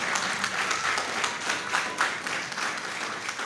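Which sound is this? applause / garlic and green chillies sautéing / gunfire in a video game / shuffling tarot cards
applause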